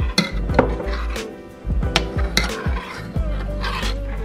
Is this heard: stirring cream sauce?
yes